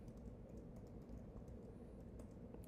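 Faint keystrokes on a computer keyboard, typed during a live question-and-answer stream with students: a steady run of soft, irregular clicks in a quiet room, with no voices.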